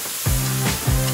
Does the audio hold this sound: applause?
no